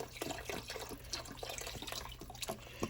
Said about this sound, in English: Now, in goes the rest of our beef broth.